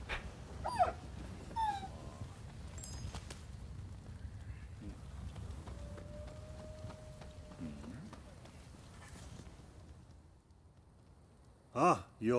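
A dog in the game Rise of the Ronin gives soft whimpers and whines over faint ambient noise, with a brief tonal whine in the middle and louder snorts or sniffs at the very end. A few faint voices are also heard.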